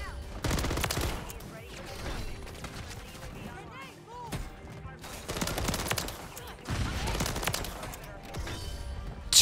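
Rapid bursts of RAM 9 submachine gun fire in Modern Warfare 3 come in repeated volleys with short gaps, mixed with game effects and a person talking over the shooting.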